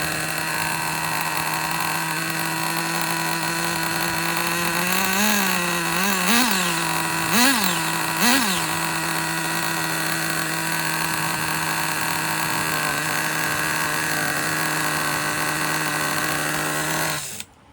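A Traxxas Nitro Slash RC truck's small high-pitched nitro engine idles steadily with a buzzy, whining drone, briefly blipping a few times before settling back to an even idle and cutting off at the end.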